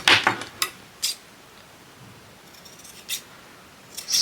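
Large, hefty scissors snip a pom-pom and clack against a table in several sharp, close bursts separated by short pauses.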